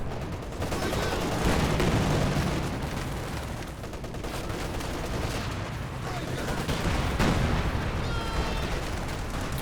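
Small arms gunfire in the strategy game Company of Heroes 2 during a 2v2 match on the map DarkRegion, with dense crackling shots and booming explosions mixed into a constant battle din, under a commentator's voice.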